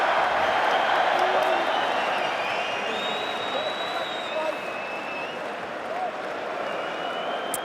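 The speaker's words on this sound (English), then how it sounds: "This is called a crowd." A large boxing arena crowd at the Anthony Joshua versus Joseph Parker fight keeps up loud, continuous applause and cheering, a dense roar that eases slightly, with a voice talking over it.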